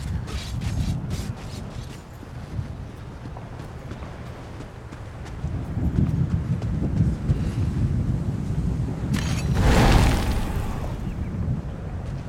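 Hooves of a horse in the Elder Scrolls Online video game thud and clop in a loose rhythm under a breezy, rustling ambience, with a louder whooshing swell near the end.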